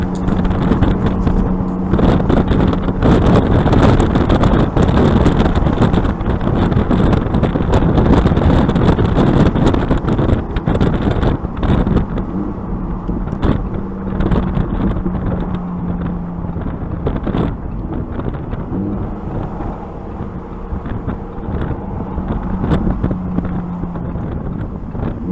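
A 2022 Lamborghini Huracan EVO RWD Spyder drives with the top down while its automatic transmission changes gears. The engine drone rises and steps loudly under a heavy, constant rush of wind noise.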